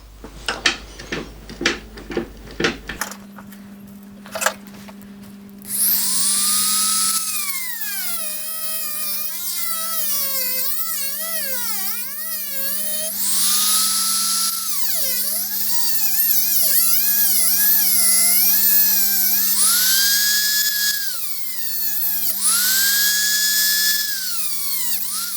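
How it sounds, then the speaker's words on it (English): A Dremel rotary tool cutting the head off a bolt stud held in a vise: a few handling knocks, then a loud high whine that rises and falls in pitch as the cutting wheel bites and eases, running steadily to the end. "So I'll hold that in the vise and I'll cut this off with a Dremel."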